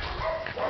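A dog being held in someone's arms gives a brief, close whimpering cry over low background noise.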